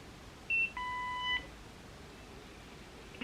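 A Nira skincare laser gives an error signal: a short high electronic beep followed by a longer, lower steady tone, both clear against quiet room hiss, ending with a brief click.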